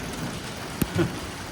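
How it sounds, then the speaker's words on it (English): Rain falling in Las Vegas makes a steady, even hiss that fills the whole stretch, with a couple of brief soft thumps near the middle and no voices. "I wanted you guys to kind of see the rain"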